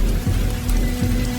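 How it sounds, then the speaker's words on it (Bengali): Heavy storm rain pours down steadily as a sound effect in a Bengali village ghost story, a dense, loud hiss with low rumbling underneath and no pause. "তুমুল ঝড় বৃষ্টি ও বজ্রপাত শুরু হয়ে গেল"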